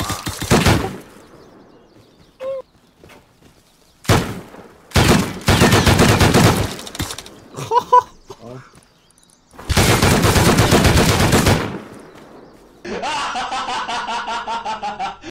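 Automatic turret gunfire outside barn A in the survival game Rust, several loud, sustained bursts of rapid shots with gaps between them, followed by a closing stretch of laughter-like voices.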